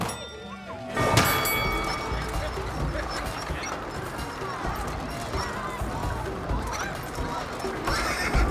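A horse in the It Takes Two video game whinnies loudly at the start, then its hooves clip-clop in a steady gallop during a race, with game music and voices talking over it.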